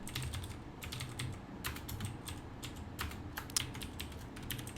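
Rapid, steady typing on a computer keyboard while a password is entered, with close, crisp keystrokes clattering continuously for several seconds and no talking.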